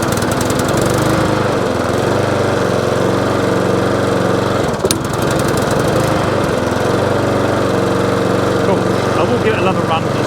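A small engine fitted with a new carburetor runs steadily at a constant speed, a loud, close, buzzing drone with a brief dip midway and no voices over it.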